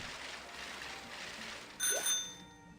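In a video game, a single bright bell dings near the end and its tone rings out briefly over a faint background hiss.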